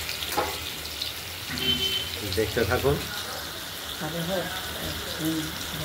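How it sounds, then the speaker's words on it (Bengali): Stuffed ash gourd slices filled with mustard and poppy seed paste frying in oil, giving a steady sizzling crackle at moderate level while someone talks over it. "চাল কুমড়ো চাক চাক করে কেটে মাঝখানে পুর ভরে সর্ষে পোস্ত এগুলোকে তেলে ভেজে নাও।"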